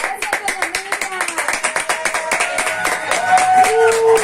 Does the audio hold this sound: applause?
yes